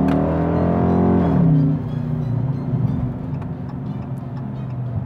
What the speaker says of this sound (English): here's a couple more clips of how awesome this exhaust is